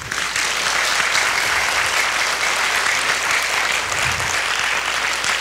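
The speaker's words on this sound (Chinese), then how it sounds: "请所有的人给蒋老师最热烈的掌声" Loud sustained applause from a lecture-hall audience thanking a speaker at a university talk, a dense unbroken roar of clapping that holds steady throughout.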